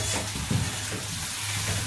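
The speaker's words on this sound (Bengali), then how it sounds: "এটাকে আমি একটু আলুটাকে ভালো করে ভেজে নেব" Potatoes frying in a pan on a gas stove at home, giving a short, loud, even sizzle with a faint scrape of a spatula and no talk.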